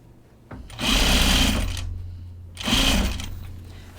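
A sewing machine stitching a bag seam runs in two steady bursts, the first about a second and a half long and the second shorter, close and clear with a brief pause between.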